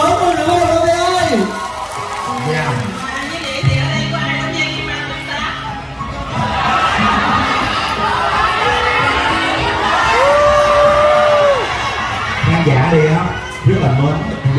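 A live stage show in Vietnam: an audience claps and cheers loudly throughout, with whoops and shouts, while a performer's amplified voice and bits of singing rise over the crowd.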